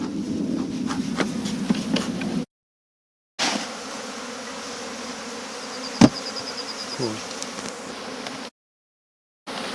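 A dense, steady buzz of many honeybees swarming around a hive fills the air, close and continuous, broken by two short gaps of silence.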